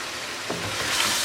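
Chicken browning in a pan for karahi chicken gives off a steady, close sizzling hiss with a slight swell near the end, and no one speaks.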